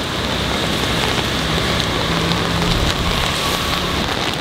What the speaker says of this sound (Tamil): அதெல்லாம் பாருங்களேன் மழை எப்படி அடிச்சிட்ருக்குல்ல.